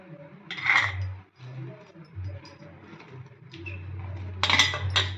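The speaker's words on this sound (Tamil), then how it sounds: "இதெல்லாம் போட்டுட்டு நல்லா கலந்து விட்டுக்கோங்க" Crumbled fried vada being tipped into a pot of Chennai-style vada curry and stirred in, with a spoon scraping and clinking against the metal pot in short bursts, close and fairly loud, under a background of hum.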